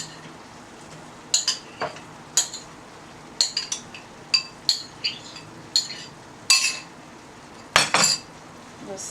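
Okra, zucchini and pumpkin being added to a cooking pot for ackee seasoned rice, a series of sharp clinks and clatters from a spoon and pot amid a faint background sizzle.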